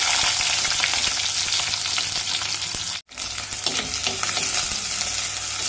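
Shallots sizzle loudly in hot coconut oil with popped mustard seeds, a dense crackling hiss that briefly cuts out midway, then resumes with stirring scrapes and pops.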